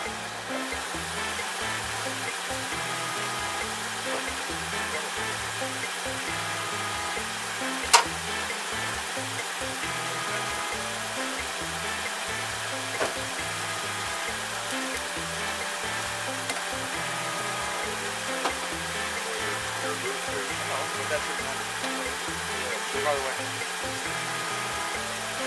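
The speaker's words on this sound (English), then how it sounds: "She's cranking right now, but she doesn't want to turn over." A vehicle engine cranks without starting in cold weather, making a steady rhythmic chugging from the starter that repeats evenly and loudly for the whole stretch, with a few faint knocks and someone talking over it.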